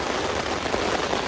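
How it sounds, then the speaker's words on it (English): Heavy rain driven by loud wind pounds against house windows during a thunderstorm at a campsite, a dense, steady hiss of drops with no break, close and loud throughout. "Loud wind and rain hitting the windows"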